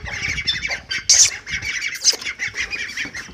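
Pet pigeons let out of their coop give harsh, repeated squawks close by, a choppy run of short bursts with brief gaps between calls.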